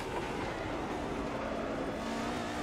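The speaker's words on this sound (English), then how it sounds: "enjoy the beautiful sound of the AMG" An AMG DTM race car engine drones steadily at high revs on the Nürburgring, with a smooth continuous roar heard from inside or close by.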